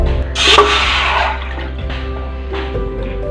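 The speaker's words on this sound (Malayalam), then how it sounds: "ഇതിലേക്ക് ഒരു കപ്പ് വെള്ളം ഒഴിച്ചു കൊടുക്കാം." A cup of water is poured into a pot on a stove, a brief close splashing gush that settles into a softer trickle and fades, followed by faint clinks.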